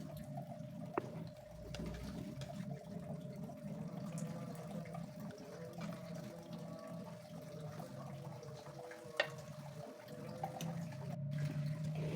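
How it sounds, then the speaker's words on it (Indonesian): A pot of stew simmers steadily on the stove with a constant, soft bubbling and watery hiss while the liquid cooks down, with a steady low hum underneath and no talking. "Tinggal kita masak terus sampai airnya benar-benar habis."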